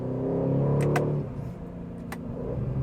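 A 2026 Aston Martin DB12 S with an 8-speed automatic accelerates hard, its engine roaring close and full, dipping briefly at a quick gear shift before building again.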